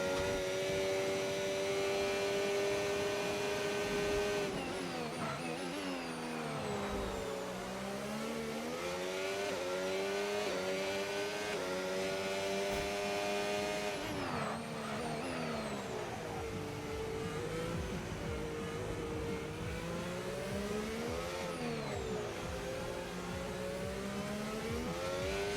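Sustained high-pitched Formula 1 race car engine in an F1 video game, revving up and down through gear changes and a slow corner, loud and continuous for the whole stretch with no talk.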